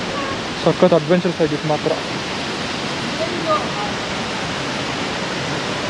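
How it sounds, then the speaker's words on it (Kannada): Steady broadband rush of the Bhimeshwari waterfall beside its temple during a monsoon ride, a constant roar filling the whole clip while someone speaks briefly over it near the start. "This is called the Bhimeshwari Waterfalls and Temple"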